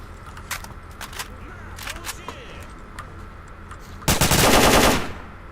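Suppressed AK-12 gunfire in the game Stalker: a run of sharp single shots spaced through the first few seconds, then a dense, loud burst near the end, with faint talk underneath.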